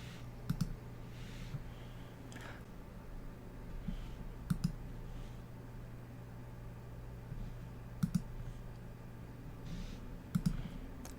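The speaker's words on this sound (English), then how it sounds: "Clicking through the new presets to see their effect" Sharp computer mouse clicks come in spaced pairs while presets are stepped through in photo-editing software, close and crisp over a faint steady hum.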